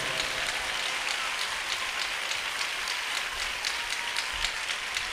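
A church congregation clapping together, a dense, even wash of many hands that holds steady throughout at moderate distance.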